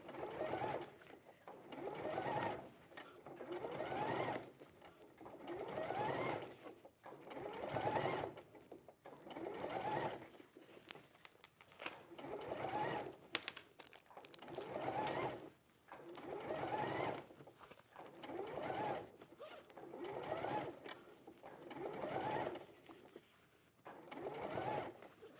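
A sewing machine stitching TPU fabric with a normal needle and a normal presser foot, running in repeated bursts of close steady whirring with short pauses between runs, with faint talk in the background.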